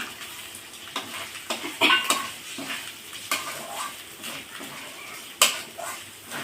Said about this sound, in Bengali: ডিমগুলো দিয়ে একটু নেড়ে চেড়ে